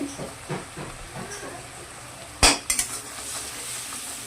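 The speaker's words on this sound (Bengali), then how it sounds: "ভালো করে মশলাটাকে মিশিয়ে নিচ্ছি।" Spices with turmeric and red chilli powder being stirred in a pan for Bengali katla fish kalia, a quiet scraping and faint sizzle with one sharp clatter of a spoon against the pan midway, followed by a couple of smaller knocks.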